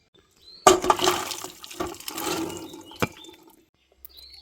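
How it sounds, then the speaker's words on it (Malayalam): Cooked chickpeas with their liquid poured into a masala for chickpea curry: a sudden wet splash, then a few seconds of sloshing, bubbling pour that fades, with a final clink of the pot. "കടല വെന്തിട്ടുണ്ട്. ഇനി ഇത് മസാലയിലേക്ക് ഒഴിച്ചു കൊടുക്കാം."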